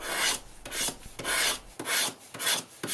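Rhythmic raspy scratching, about six strokes back and forth across the hard metal body of a Nokia 6 smartphone, close and fairly quiet, with no talking.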